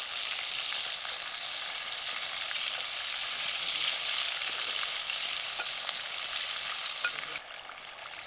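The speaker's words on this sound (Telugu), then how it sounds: "పీసెస్ అన్నీ ఫ్రై అయిపోయాయండి." KFC-style chicken pieces deep fry in hot oil, giving a continuous, close, hissing sizzle with scattered tiny pops. The sound eases slightly near the end.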